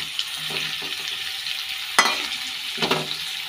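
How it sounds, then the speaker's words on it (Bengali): Onion fries with papaya in a pan: a continuous moderate sizzle with occasional stirring scrapes and one sharp clack midway. "ভেজে নিই ভালো করে। এখন দিয়ে দেবো পেঁয়াজটা"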